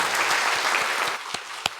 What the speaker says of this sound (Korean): 그분들에게도 감사의 박수를 하겠습니다.